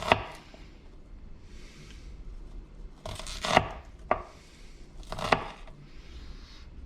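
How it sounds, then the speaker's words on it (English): A knife chops raw shallots and chili peppers on a cutting board for sambal matah, a few sharp separate strokes with short bursts of quick slicing between pauses, close and clear with no talk. "I'm going to go ahead and not quite worry about slicing it so thin."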